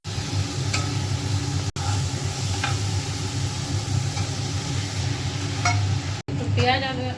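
Fish fries in a pan on a home stove, a steady close sizzle with scattered pops and stirring clinks, continuous throughout with a couple of brief gaps.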